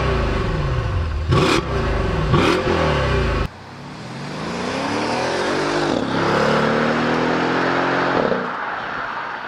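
Mercedes-AMG S63 Coupe with a 6.0-liter bi-turbo V12 revving loudly, with sharp throttle blips and then a long rising, sweeping engine note as it accelerates, close and alone.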